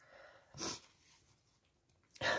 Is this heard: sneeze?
yes